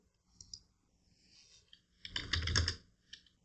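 A computer keyboard is typed on to enter a game name, a few light scattered clicks followed by a quick close burst of keystrokes and a final tap, quiet and alone.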